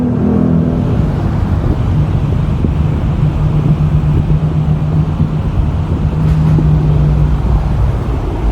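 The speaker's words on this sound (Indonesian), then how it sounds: "dump truck atau tronton sudah meninggalkan lokasi pengangkutan" Dump truck pulling away from a mud dredging and loading site on a city street, a steady low engine rumble with broadband road noise, close and continuous, with no talk.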